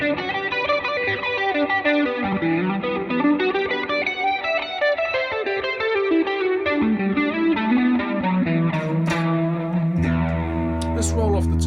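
An Ibanez S Series Prestige electric guitar played through its neck humbucker on a clean tone, with a continuous melodic line of ringing notes and chorus-like shimmer, ending on a held low chord.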